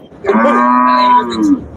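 Cattle at a Monday livestock market in Melapalayam call out with a single loud, drawn-out moo lasting over a second, close by and clear, with no talk over it.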